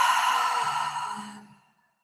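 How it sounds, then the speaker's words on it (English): A long, slow exhale during a guided breathwork exercise, breathy and close, fading steadily over about a second and a half into silence. "And exhale."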